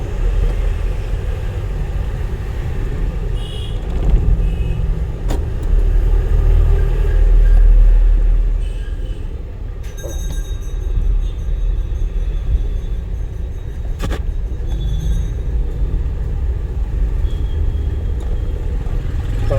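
A driving school car rolls along with its engine running during a lesson, a steady low rumble of engine and road noise with brief brighter rattles and clicks, carrying continuously with no talk.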